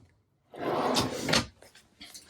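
Large drawer in a 2021 AUSRV XL15-4 off-road caravan sliding open or shut, a single close, fairly loud rumbling slide with a rasping finish, followed by faint rattles.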